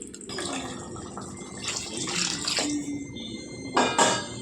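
Water splashing into a pot of mutton khatta curry, a short close pour with a few bursts and a louder splash near the end.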